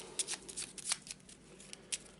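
A deck of cards being shuffled for a board game, a quick series of crisp riffling bursts and soft slaps, fairly quiet and close, with no talking.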